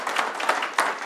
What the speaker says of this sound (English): honor him with an applause